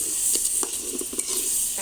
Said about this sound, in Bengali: টমেটোটা কষানো হইতে থাক